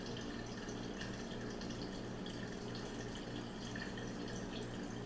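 Sparkolloid fining solution, a tablespoon of powder dissolved in a cup of boiling water, being poured into homebrewed wine being racked; a steady, faint liquid pour runs continuously without a break.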